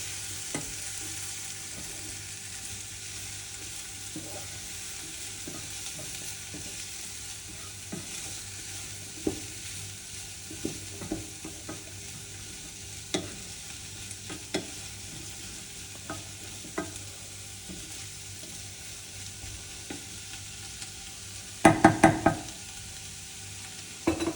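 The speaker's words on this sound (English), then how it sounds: "we'll stir my potatoes so they don't burn" Home fries potatoes frying in a pan in a small kitchen, a continuous steady sizzle with scattered scraping stirs throughout and a louder clatter of spatula against the pan near the end.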